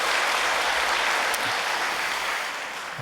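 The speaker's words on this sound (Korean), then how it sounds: "우리 성가대도 다시 한번 박수 보내 올리겠습니다." A church congregation applauds the choir, a dense, steady wash of clapping filling the room and tapering slightly toward the end, with no talk.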